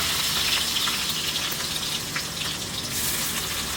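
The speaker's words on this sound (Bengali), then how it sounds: "আচ্ছা, ফার্স্টে বেরেস্তাটা ভেজে ফেলছি।" Sliced onions for biryani frying in hot oil, a steady dense sizzle with crackling pops throughout, close and moderately loud, no voices.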